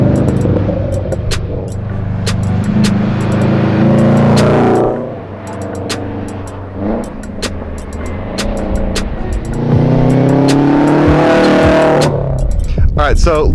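A rally car engine revs and roars loudly on a mountain road, rising and falling as it accelerates and shifts gears during test runs, with tires squealing near the end.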